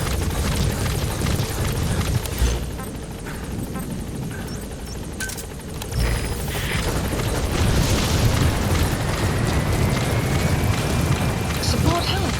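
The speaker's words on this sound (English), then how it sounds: "Support helicopter has arrived." Support helicopter arriving in Metal Gear Solid V, its loud, steady rotor roar filling the whole stretch with rumbling noise and a few booming bursts, while radio voices and game chatter sound over it.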